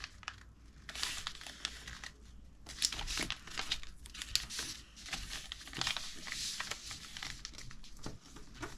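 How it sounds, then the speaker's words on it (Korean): Sheets of paper crinkle and rustle steadily at close range as they are folded along an earlier crease for an origami sea dragon, a soft continuous crumpling with brief pauses. "아까 접었던 이 선에 다시 접어주세요"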